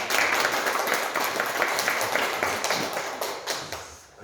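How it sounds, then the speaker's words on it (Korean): A church congregation claps together at a Sunday worship service, a steady dense patter of many hands that holds for a few seconds and thins slightly toward the end. "다시 한번 우리 박수로 격려하고 축복하겠습니다."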